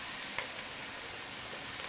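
Garlic, onion and spices sizzle steadily in a hot pan as they are sautéed, a dense, even frying hiss heard up close with a faint stirring tap.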